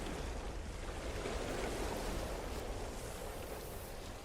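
Ocean waves in No Man's Sky wash in a steady, unbroken surf with a broad hiss that stays even and fairly loud throughout, with no voices.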